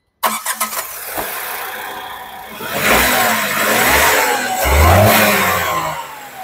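A Tata Punch 1.2-litre three-cylinder petrol engine cranks with a quick stuttering start, catches, then revs up in a couple of loud swells before settling toward idle, heard close and alone.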